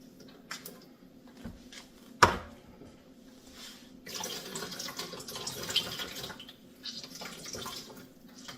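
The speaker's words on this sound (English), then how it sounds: "We recycle here, so we have to wash our recycling." Running tap water rinsing out empty recycling, likely a tuna can, in a home kitchen sink: a steady close stream with splashes and a sharp knock partway through, flow growing stronger in the second half.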